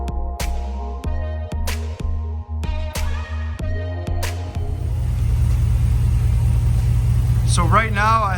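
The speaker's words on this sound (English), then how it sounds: "I'm gonna let it idle for a few minutes" A 2019 Ram 1500 fifth-generation pickup engine idles after an oil change, a steady low rumble that takes over midway after a series of sharp clicks and clanks, with a brief voice-like warble near the end.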